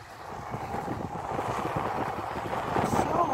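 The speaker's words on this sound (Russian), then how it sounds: "Ветер сильный." Strong wind gusts in a snowstorm over a winter ice town being cleared away, a steady broadband roar with rising intensity toward the end, close to the microphone and buffeting it, with no talk.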